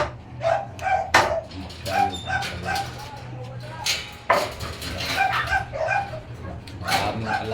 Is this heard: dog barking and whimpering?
yes